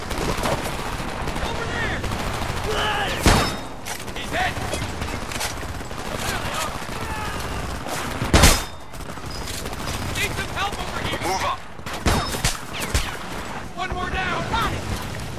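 Gunfire in the PS3 shooter Homefront: sharp loud shots and bursts of automatic fire with booms, mixed with in-game voices and battle noise over fifteen seconds.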